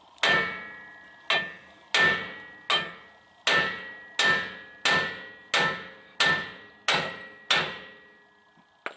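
Ten loud, evenly spaced hammer blows ring out on the driveshaft yoke of a 2008-2014 Ford F-150 two-piece driveshaft. Each blow is a sharp metallic clang that decays quickly.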